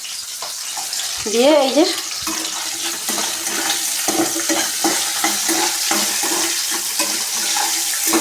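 Chopped garlic and ginger frying with onions in hot oil for chili mushroom, a steady close sizzle with stirring and clatter running throughout, a brief voice heard early over it.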